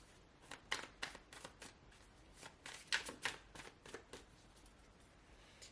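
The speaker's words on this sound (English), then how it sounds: "I'm getting 2 cards and then shuffle again" A deck of cards being shuffled up close and quietly, a run of crisp riffling bursts in quick irregular clusters with short pauses between them.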